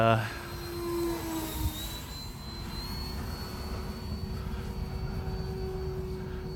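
An RC plane flies overhead at a flying field with its flaps down, giving a steady whining engine drone with a rising and falling pitch sweep, moderately loud against outdoor background noise.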